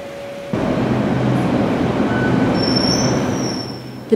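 A Beijing subway train rumbles steadily nearby, wheels grinding on the track with a high metallic squeal rising toward the end.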